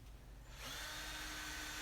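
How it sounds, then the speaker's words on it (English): Power drill spins up and bores a starter hole for an arcade button in the control panel of an Arcade1Up Galaga cabinet, a steady loud whine that starts after a short pause and holds to the end. "I took a drill and just did some starter holes"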